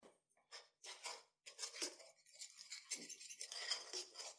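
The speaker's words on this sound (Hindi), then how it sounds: "हमने कस्टर्ड को अच्छे से मिक्स कर लिया है।" Spoon clinks and scrapes against a bowl while custard powder is stirred into half a cup of milk, a faint, close run of irregular tapping and scraping strokes.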